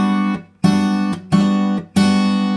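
Four strummed guitar chords, each with a hammer-on, ring out one after another, each cut short by a brief silence, with a bright, full tone and no talking.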